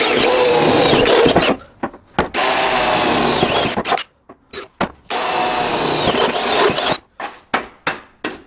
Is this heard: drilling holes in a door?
yes